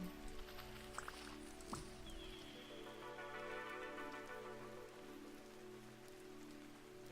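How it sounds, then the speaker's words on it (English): Steady rain ambience outdoors in the video game Vintage Story, a soft even patter of drops on surfaces continuing throughout, with a few faint clicks and background tones. "Unless I'm just misremembering what rain sounds like outside."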